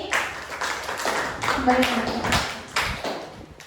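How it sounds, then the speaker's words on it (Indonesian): Scattered claps in a high school classroom for three students, uneven and thin, mixed with voices talking over them. "silakan tepuk tangan dulu untuk 3 temannya ini"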